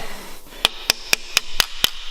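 A small hammer taps a piston into an LS engine block during a junkyard bottom-end assembly: six sharp, close metallic taps at an even rhythm, with no talking.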